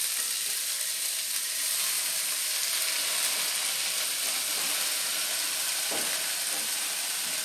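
Cabbage and mixed vegetables with green chili frying in a pan over a medium flame, giving a steady, even sizzle throughout with a brief stir or clink near the end.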